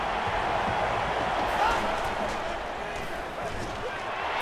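A stadium crowd roars in the NCAA Football 13 video game, a dense, constant wash of cheering and noise under commentary voices.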